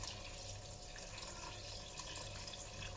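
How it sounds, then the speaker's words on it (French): Water pours steadily into a pot of Mauritian-style crab soup, a continuous close splashing and running-liquid rush with no voices. "Et maintenant, je vais ajouter de l'eau."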